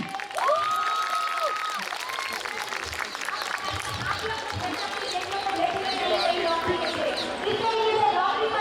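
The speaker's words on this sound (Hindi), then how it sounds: "प्लीज़ एक बार जोर से तालियां" An outdoor crowd at an animal welfare public gathering at Jantar Mantar applauds steadily throughout, a dense wash of clapping and crowd noise with voices talking over it.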